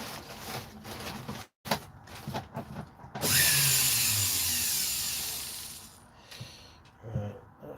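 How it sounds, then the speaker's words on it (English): A small rotary drill, run from a foot pedal, whirs up and spins steadily for a few seconds like a dentist's drill, with clicks and handling noises before and after. "So I do apologise if it sounds like the dentist drill."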